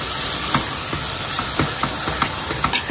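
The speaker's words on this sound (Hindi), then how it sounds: "अब इसकी करते हैं अच्छी तरह बुनाई तकरीबन तीन से चार मिनट के लिए ताकि कीमा अच्छी तरह भुन जाए" Minced meat keema browns in hot oil in a pot, a dense steady hiss with short rhythmic scraping stirs every half second or so.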